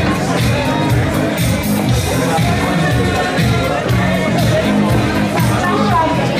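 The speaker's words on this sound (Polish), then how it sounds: "I ogromne brawa dla wszystkich laureatek dzisiejszej jubileuszowej gali" Loud, steady crowd noise fills a gala hall as the audience applauds the award winners at a jubilee Women with Character ceremony in Olsztyn, with dense clapping and murmured voices throughout.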